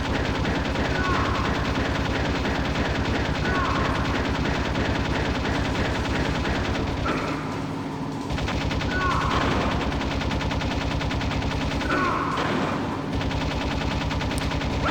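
Bursts of gunfire from the Metal Gear Solid video game rattle in repeated volleys over a constant layer of game sound, with a rotor-like drone underneath.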